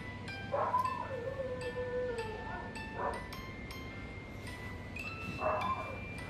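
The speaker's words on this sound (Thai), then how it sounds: "เธอเห่าใคร" A beagle barks and yelps indoors in several short bursts, including a drawn-out whining howl, against a faint background hum.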